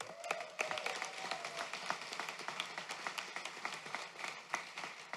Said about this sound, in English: And a big round of applause for those who already passed their board exam.